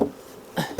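Honeybees being shaken out of a hive box give short, close buzzing bursts over a faint background hum.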